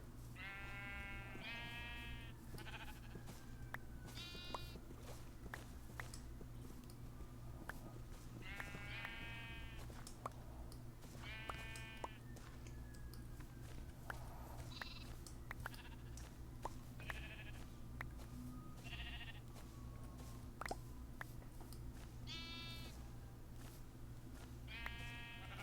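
Sheep in a video game bleat in short wavering calls, repeated a dozen or so times at irregular intervals over a steady low ambient hum.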